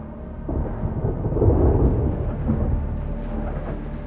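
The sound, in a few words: thunderstorm with rain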